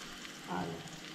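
Onion and curry leaves sizzle in hot oil for a Goan cowpeas and drumstick bhaji, a soft steady frying hiss with a brief swell midway, fairly quiet and close.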